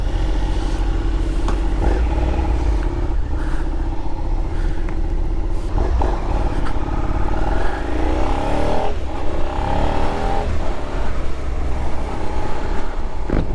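A brand-new 2022 Suzuki SV650 LAMS motorcycle engine starts and runs at a loud, close, steady idle, with a deep rumble that shifts slightly in tone partway through.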